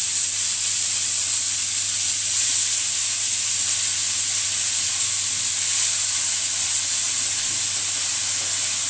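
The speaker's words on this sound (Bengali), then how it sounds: "এই লাল শাক কিন্তু এখন রান্না হবে।" Red amaranth leaves frying with garlic, onion, black cumin and green chilli make a loud, close, continuous sizzle that holds steady and hissing throughout, with no speech.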